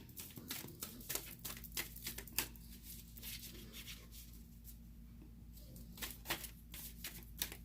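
Tarot cards slid and laid down one by one on a table, a quick series of soft crisp swishes and taps in bursts with a quiet pause midway, close and faint.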